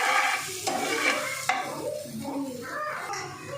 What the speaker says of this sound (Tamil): லைட்டாக வதக்கிட்டு ஆனியன் போட்டுக்கலாம்